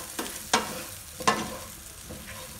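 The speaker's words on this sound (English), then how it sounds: "Stir well." Raw banana and coconut palya being stirred in a pan, with a few distinct scraping strokes of the spoon over a soft sizzle, close and alone.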